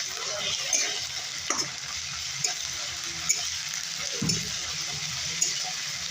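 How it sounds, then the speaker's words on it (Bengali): Ginger garlic paste frying with browned onions in a pan, a continuous close sizzle broken by occasional scrapes and light taps of the stirring spoon. "আদা রসুনের কাঁচা গন্ধ যাওয়া পর্যন্ত ভেজে নেব।"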